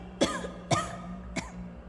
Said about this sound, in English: Spike coughed.